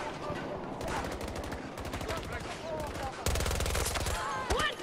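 Rapid automatic gunfire in a Battlefield 2042 match, dense bursts of shots crackling close and loud with a heavier volley near the end, mixed with brief voices talking over it.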